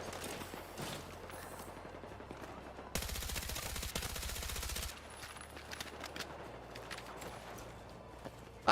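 Machine gun in Battlefield 6 firing one sustained loud, rapid burst lasting about two seconds, set against quieter scattered shots and battlefield ambience before and after.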